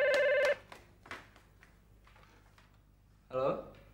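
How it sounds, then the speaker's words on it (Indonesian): A telephone bell rings in a short loud burst, falls silent, then starts a second burst, with faint background sounds between the rings. "Gus, angkat nih telepon"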